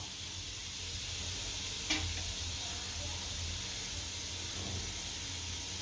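Asafoetida dropped into hot oil for a Gujarati green onion curry gives a steady close sizzle and hiss of frying, with a brief sharper crackle partway through and faint stirring.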